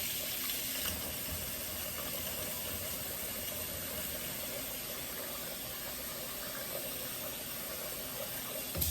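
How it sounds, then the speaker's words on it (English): Warm water runs steadily from a kitchen tap to wash jasmine rice, a soft continuous hiss and splash heard faintly and evenly throughout, without talk. "Put water. This warm water, not too hot, not too cold."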